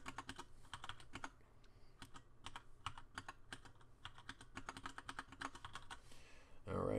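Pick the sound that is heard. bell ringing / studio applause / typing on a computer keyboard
typing on a computer keyboard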